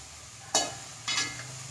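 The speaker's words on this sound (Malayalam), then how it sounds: "മത്തൻ്റെ ഇല അങ്ങോട്ട് ഇട്ട് കൊടുത്തു നന്നായി ഒന്ന് ഇളക്കി കൊടുക്കട്ടെ" Pumpkin leaves get stirred while frying in a pan for thoran, two short scraping, rustling sweeps over a faint background sizzle, close and clear.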